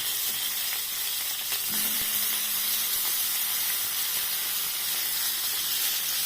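Eggplant slices fry in hot oil with a steady, close sizzle and hiss that holds even across the whole stretch, with no voices.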